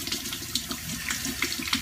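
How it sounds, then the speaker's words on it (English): A Gillette Mach3 razor is rinsed under a hot running tap, giving a steady broadband splash of water with small clinks and spatters throughout, close and moderately loud, with no voices. "I just ran this Mach 3 under hot water"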